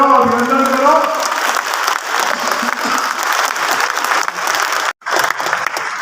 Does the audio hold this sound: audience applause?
yes